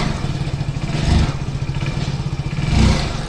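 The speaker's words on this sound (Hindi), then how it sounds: "जैसी बाइक स्टार्ट हो गई अपनी बाइक में हम लगाते हैं क्लच दबा कर फर्स्ट गियर, पहला गियर डाल दें और दोस्तों इसका क्लच छोड़ूंगा मैं" A Hero Splendor Plus BS6 motorcycle ticks over in first gear as the clutch is let out, a steady close mid-pitched engine clatter swelling twice with brief revs, with no voices.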